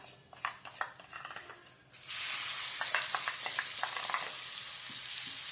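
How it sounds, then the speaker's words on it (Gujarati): Masala sizzling loudly in hot ghee for a Gujarati rajwadi rotlo, starting with scattered clinks and stirring, then a steady, dense frying hiss that holds to the end. "હવે આપણે આ મસાલાને થોડીક વાર આમાં સાતળવાનો છે."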